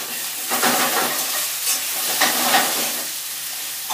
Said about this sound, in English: I've been pan frying these potatoes for about 5 minutes